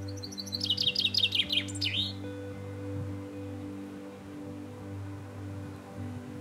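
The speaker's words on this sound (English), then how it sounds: "This sorry looking tree was host to a chatty wee chaffinch." A lone chaffinch in a sorry-looking tree in the Bathgate Hills sings a quick, bright descending run of notes that ends in a flourish. A steady low hum and faint rain-like hiss carry on after the song stops.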